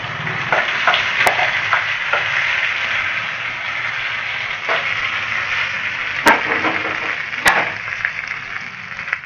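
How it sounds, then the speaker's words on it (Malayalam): Curry leaves and green chilli sizzle loudly in a pan for tomato pachadi, a steady hiss of frying with a few sharp crackles and pops. "നമുക്ക് സ്റ്റവ് ഓഫാക്കി കറിവേപ്പില ഇട്ട് കൊടുക്കാം."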